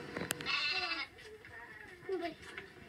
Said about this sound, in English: Look at those lambs.